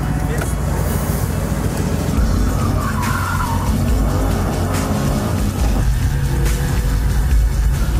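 A Mercedes-AMG GT S sports car skids with a long tire squeal over a steady engine roar and road noise, close and loud, while people talk throughout.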